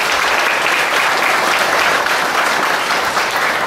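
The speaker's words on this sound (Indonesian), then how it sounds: "Tepuk tangan buat kita semua." A crowd at a Buddhist temple talk claps steadily and loudly for several seconds, dense even applause with no talking.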